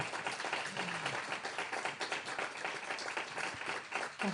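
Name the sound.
audience applause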